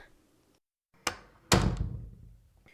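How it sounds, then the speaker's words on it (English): A door is pushed shut, giving a sharp knock followed by a heavier slam with a short rattling decay, heard close and alone after a stretch of near silence. "Shut the door and get in here."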